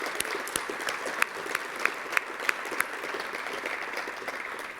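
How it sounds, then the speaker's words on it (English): A crowd at a leadership forum applauds elected officials in a steady, dense round of clapping that holds for the full stretch, with a few sharper claps standing out near the front. "let's give a round of applause to all of our elected officials"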